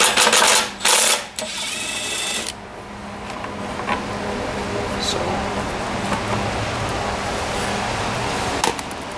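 A wrench works loose a 3/8 bolt on the gas tank of a Toro Super Recycler lawn mower with a 6.5hp Briggs & Stratton engine, giving short bursts of rapid metallic ratcheting clicks up close, then a quieter stretch of background hiss.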